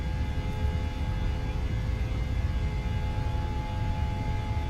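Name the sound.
airliner engines at takeoff thrust, Microsoft Flight Simulator video game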